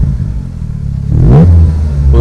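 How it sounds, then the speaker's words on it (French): Morgan Plus 4 with a 2.0-litre GDi engine, 2018, fires up: a low idle rumble, then a sharp rev flare on starting that settles back into a steady, loud, close running note. "On entend tout de suite la sonorité du moteur GDI"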